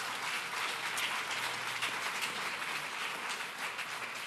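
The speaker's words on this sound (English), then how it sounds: "Let's give them a round of applause" Steady audience applause fills a museum grand opening crowd, dense and continuous clapping at moderate level throughout, no voices over it.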